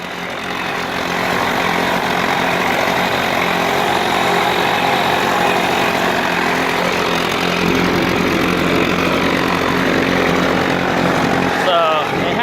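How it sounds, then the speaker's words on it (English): A Mercury outboard boat engine, run after sitting unused for about two years, running steadily at a loud, constant idle, its droning rumble unbroken until a brief change near the end. "I finally got this engine going."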